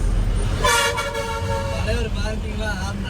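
A loud, sustained bus horn blares for about a second and a half on a hill road on the Kotagiri route to Ooty, followed by a second, fainter horn tone over steady engine noise.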